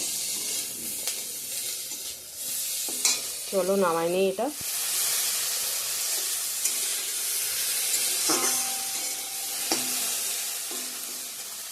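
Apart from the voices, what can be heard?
okra (bhendi) frying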